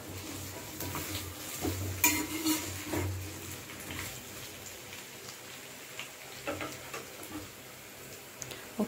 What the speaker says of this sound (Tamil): ஒரு 2 நிமிஷம் அப்படி எண்ணெயிலே வதக்கி விட்டுருங்க.